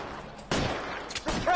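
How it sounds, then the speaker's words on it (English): Gunfire in L.A. Noire: a fusillade of shots erupts after a quiet moment, with several loud cracks over about a second, set against faint background noise. "Suppressing fire"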